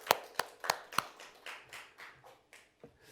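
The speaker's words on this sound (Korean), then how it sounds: "감사의 박수" A church congregation claps at a ninth-anniversary thanksgiving service. A few sharp, spaced claps come first, then a softer, scattered patter that fades out, heard at some distance.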